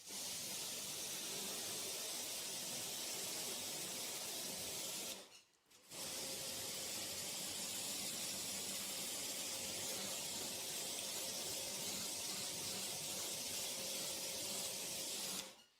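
Long, steady hissing sprays of synthetic spray wax from a spray bottle nozzle, broken by one brief pause before the spraying resumes, close and continuous with no voices.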